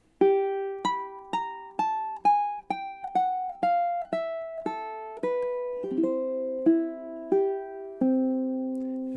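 Solo ukulele plays the closing measures of Chopin's Nocturne Op. 9 No. 2, a slow descending line of single plucked notes, each ringing clearly, close and unaccompanied, settling onto low final notes.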